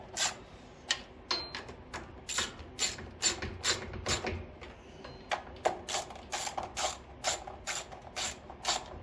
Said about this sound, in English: last one, and then we'll go ahead and tighten them down